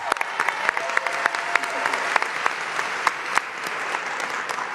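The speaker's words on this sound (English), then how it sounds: "give everyone up here a round of applause." A crowd at a New York City mayoral announcement for a new recreation center applauds elected officials on stage, a full, steady roar of clapping with sharp individual claps popping out close by throughout.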